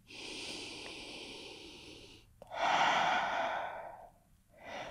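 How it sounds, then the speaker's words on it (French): Deep breaths during a yoga routine: a long slow exhale, a sharp inhale, another long breath out, then the start of a fresh inhale, close and airy with no talk. "On prend encore une bonne respiration ici."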